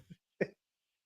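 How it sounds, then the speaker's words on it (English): A single short, faint cough comes from a podcast host, preceded by a soft throat sound, then silence. "The RFK cough is insane."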